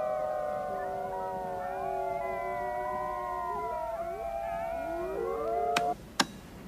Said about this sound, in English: Halfway through the howl, he changes an octave.